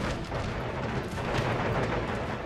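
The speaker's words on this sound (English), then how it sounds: "Artillery pieces are doing a lot of damage to us." Artillery fire in the video game Empire: Total War during a siege battle, a dense continuous rumble of booming cannon blasts blending into a steady roar, loud and without any voices.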